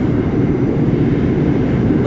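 A Coney Island-bound Q subway train via Brighton Beach arriving at Lexington Avenue-63rd Street station gives off a loud, steady low rumble and roar, close and continuous throughout the brief moment.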